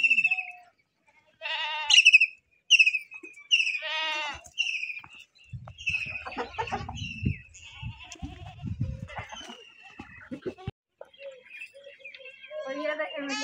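Several goats bleat repeatedly and loudly at close range while being fed grass, their wavering calls overlapping, with rustling and a voice talking between them.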